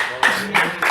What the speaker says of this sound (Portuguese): Não batam palmas, não batam palmas.